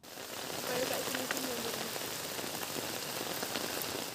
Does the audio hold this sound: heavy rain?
yes